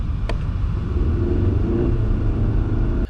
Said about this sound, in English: You push the gas and it takes a full second for the car to respond.